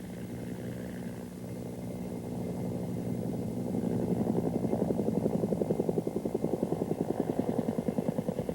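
Two Bell AH-1 Cobra helicopters fly overhead, their engine drone steady, and then a rhythmic rotor chop builds and grows louder through the second half. No voices.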